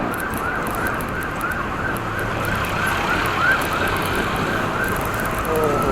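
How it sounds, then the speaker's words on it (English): An ambulance siren wails steadily on a street, a repeated rising-and-falling tone that carries loudly for the whole stretch over a bed of road noise and wind, with no talk. "That's ambulance number 4."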